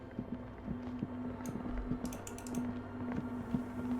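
Keys clatter on a machine's keyboard in Disco Elysium, a quick irregular run of sharp clicks over a steady low hum, close and moderately loud, with no voices.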